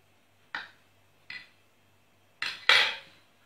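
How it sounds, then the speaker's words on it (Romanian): Pasta dough for spinach and beet colored pasta being worked by hand, giving four soft handling knocks and slaps, two isolated and two close together near the end, heard alone and fairly close. "Acum am să amestec cu mâna."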